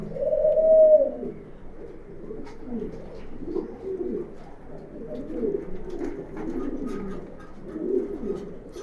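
Pigeons coo continuously nearby, soft throaty rolling calls overlapping one another in a steady chorus.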